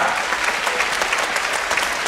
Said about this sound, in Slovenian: En aplavz za otroke iz Cestnega mesta.